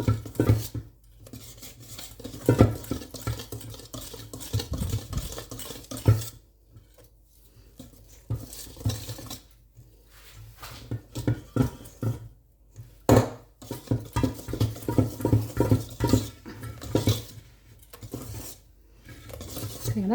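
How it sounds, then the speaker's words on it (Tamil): A utensil stirs vanilla cake batter with milk in a bowl, making repeated clinks and scraping knocks against the sides in an uneven rhythm, close and alone with no voices. "விட்டுட்டு வடிவாக கலந்து விடுவோம்."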